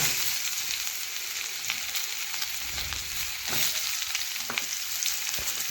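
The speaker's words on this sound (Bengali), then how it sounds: "এখন আমি কেটে রাখা পটল দেখুন তেলের মধ্যে ছেড়ে দিচ্ছি" Cut pointed gourd (potol) pieces fry in hot oil in a wok, a loud, dense, continuous sizzle with occasional soft taps and stirring knocks, close and unbroken; no voices.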